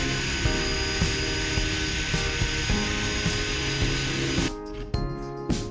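A Parkside cordless drill with no hammer function boring into a hard surface, a loud continuous motor whine with rhythmic ratcheting clicks, easing off near the end with a few separate clicks, no voices.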